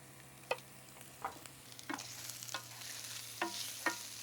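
Shrimp searing in a pan with garlic, salt and peperoncino, a soft steady sizzle broken by several sharp scrapes and stirring clicks spaced irregularly, close and fairly quiet with no talking.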